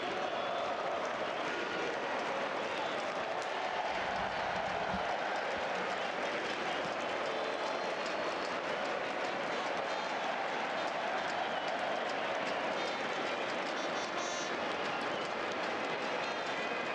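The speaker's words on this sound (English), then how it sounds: "a supportive, enthusiastic crowd tonight for sure" Football crowd at Estadio Nacional in Costa Rica, not full, during a World Cup qualifier against Trinidad & Tobago, keeping up a steady broad roar of cheering and applause across the whole stretch, with a brief low thump near the start.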